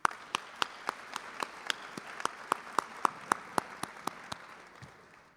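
A small audience at a scholarship awards night claps for graduating seniors: a sparse, evenly spaced run of sharp individual claps, moderately close, tapering off at the end.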